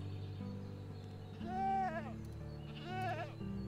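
Goats bleating in the farming game Medieval Dynasty, two separate wavering bleats a second or so apart over a steady low ambient hum, with faint talk in the background.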